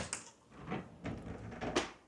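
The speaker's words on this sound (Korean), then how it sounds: "그런데 반대쪽 문을 열면" Several soft knocks and clunks as a door is opened on the far side of a duplex apartment stairwell fitted with sliding doors, close by, irregular and moderately loud with no talking.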